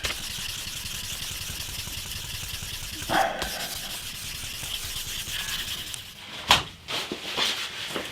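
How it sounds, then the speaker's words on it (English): A handmade olive and walnut guitar top is sanded with 2500 grit sandpaper, a continuous close rubbing hiss that runs steadily before a few sharp knocks and pauses near the end. "I've just gone over it with 2500 grit, and we're starting to get a sheen on it"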